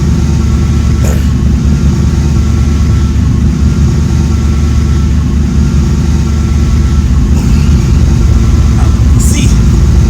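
A modified Ford Crown Victoria street car idles with a straight header exhaust, a loud, deep, steady rumble close by, with a few brief clicks over the top.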